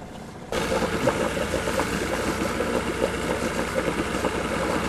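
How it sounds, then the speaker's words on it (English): The engine of an O'Day 25 sailboat starts and settles into a steady idle, a sudden jump in level after a half-second of quieter background, then a continuous rumbling chug. "We are firing up the engine and departing for the great Gulf overnight."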